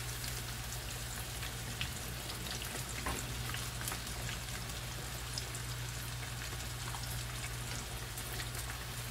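Yellowtail fish cutlets and shrimp fry in hot oil with a steady, dense crackling sizzle, a constant bubbling hiss with no talk, plus a low steady hum underneath.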